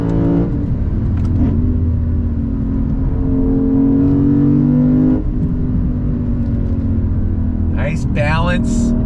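A 2022 Lexus IS 500 sport sedan pulling hard on throttle, its engine note loud and close as it climbs steadily in pitch for several seconds before easing off, with a voice cheering briefly near the end.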